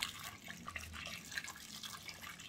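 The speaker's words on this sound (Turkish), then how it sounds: "Suyumu koyuyorum." Water pours into a pot of potatoes for a Turkish yogurt potato dumpling dish, a faint, continuous splashing trickle heard close by without talk.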